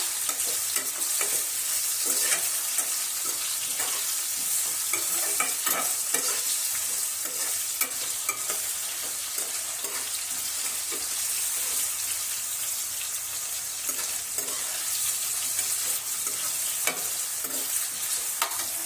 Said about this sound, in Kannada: ಇನ್ನು ಸ್ವಲ್ಪ ಫ್ರೈ ಆಗ್ಬೇಕು ನೋಡ್ರಿ